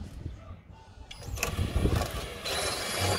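Drilling and fastening fiberglass fender extensions onto a Golf 2 VR6, with mechanical whirring and ratcheting bursts that grow louder partway through, close by and alone.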